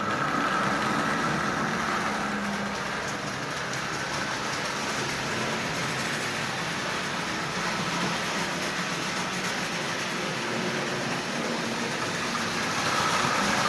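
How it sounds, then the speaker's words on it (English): A Marx Santa Fe 1095 toy train fitted with a double reduction motor runs with a steady, even whir and hum that stays constant and fairly close throughout, with no pauses. "Standard double reduction motor mounted in a Marx Santa Fe 1095"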